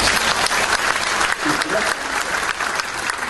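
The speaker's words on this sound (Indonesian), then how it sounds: "Tepuk tangan yang keras." A church congregation applauding loudly during a sermon, a dense, sustained wash of clapping from many hands filling the space without pause.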